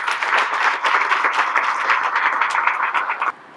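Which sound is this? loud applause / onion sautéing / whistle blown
loud applause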